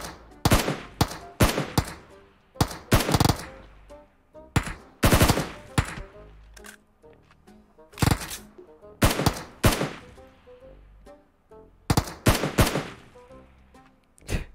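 Bots shooting at each other in PUBG Mobile video game, loud close bursts of automatic gunfire in repeated rapid volleys separated by short pauses.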